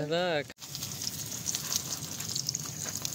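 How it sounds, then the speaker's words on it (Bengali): A bread chop frying in hot oil at a campervan campsite, a steady close crackling sizzle running throughout after a brief voice at the start. "ব্রেড চপ একদম ভাজা হচ্ছে।"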